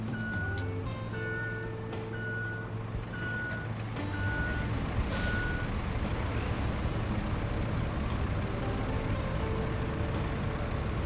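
A dump truck in Roadcraft backs up with steady, repeating reversing beeps over a loud engine drone, with a hiss like an air brake partway through and the engine rising afterward.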